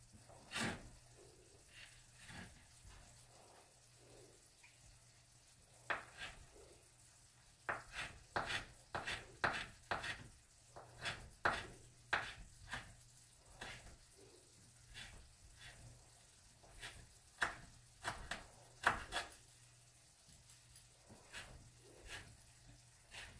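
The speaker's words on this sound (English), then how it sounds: "I'm going to just thinly slice down this rind" A knife slices thinly down through a rind on a cutting board in a kitchen, giving a run of sharp, close clicks and taps. Some strokes come singly and some in quick bursts, with a faint background hum and no talking.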